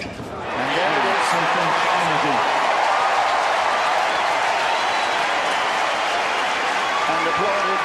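Stadium crowd applause at the Agassi vs Hewitt Cincinnati 2004 tennis final, a sustained broad roar of clapping and cheering that swells in within the first second and holds steady and loud, with commentary voices underneath.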